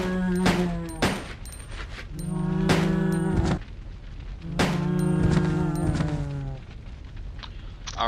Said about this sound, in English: let's test Chris's handgun on a zombie